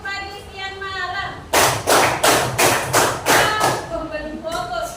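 A school class speaks in unison, then claps sharply six or seven times in a steady rhythm, followed by more group speech.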